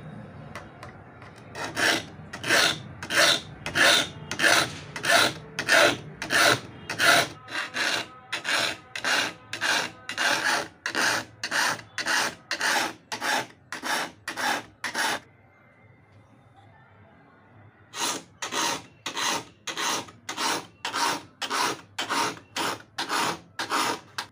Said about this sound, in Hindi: दोस्तों हम इस पर ऐसे ही रफली धार लगा रहे हैं